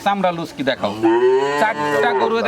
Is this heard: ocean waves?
no